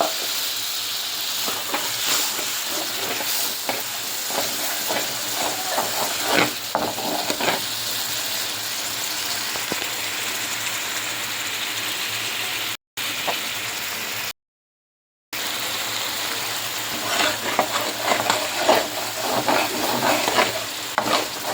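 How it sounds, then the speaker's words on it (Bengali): Chili spice paste with ginger and garlic paste sizzles and fries in a pan, a continuous hiss with scraping stirring strokes, close and fairly loud, briefly cutting out midway. "এখানে আমি আদা বাটা রসুন বাটা সব কিছু দিয়ে ভালো করে মরিচ মশলাটা কষিয়ে নিচ্ছি।"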